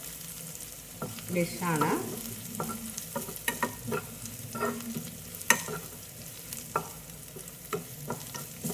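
Curry leaves and crushed ingredients sauté in a pan for cowpea curry, giving a quiet sizzle broken by scattered scrapes and taps of stirring; a brief spoken word passes near the start.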